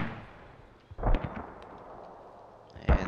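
Mortar fire in the Squad video game, two heavy booming impacts about two seconds apart against a low rumbling battlefield background.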